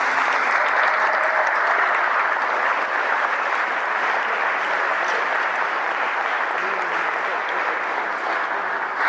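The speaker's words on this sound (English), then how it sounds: "if you could give them a round of applause" A large crowd applauds steadily and loudly throughout, a dense continuous wash of clapping with no pauses.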